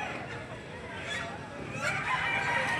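Chickens clucking and crowing in a noisy, busy gamefowl market, with a steady din of background chatter underneath.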